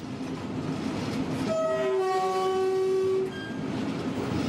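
A phosphate-line train runs through the Tunisian desert near Metlaoui, its constant rumbling roll carrying a long, loud, steady horn blast partway through before the rumble continues alone.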